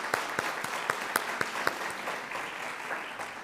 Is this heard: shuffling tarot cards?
no